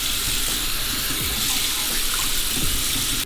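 Cold water runs steadily from a tap while wetting hair at a sink, a continuous bright splashing hiss that stays even and close throughout, with no voices.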